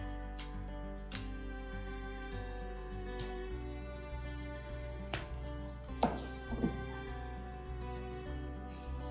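A knife cuts through banana-leaf-wrapped Kerala-style fried fish on a plate, giving a few close, sharp crunching chops and scrapes over steady background hum.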